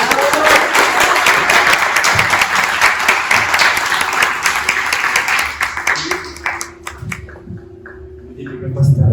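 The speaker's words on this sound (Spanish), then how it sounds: "así que les pido un aplauso" Studio audience giving a guest a round of applause on an entertainment show, brisk clapping that thins out and fades near the end as people begin talking.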